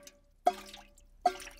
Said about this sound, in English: Look, it is going drippity-drip.